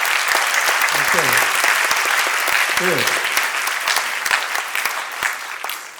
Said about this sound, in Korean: 박수 한번 보내줍시다.